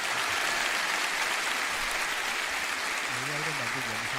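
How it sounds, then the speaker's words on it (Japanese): A church congregation claps continuously, a dense wash of applause that fills the room at a moderate distance, with a low sustained tone rising beneath it toward the end. "私は主に拍手を捧げます。"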